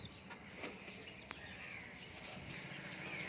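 Fantail pigeons in a loft coo softly and repeatedly, faint and somewhat distant, over a low steady background hum with a couple of light taps.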